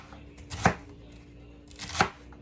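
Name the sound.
knife chopping celery on a cutting board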